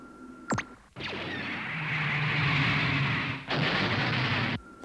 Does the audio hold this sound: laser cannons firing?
yes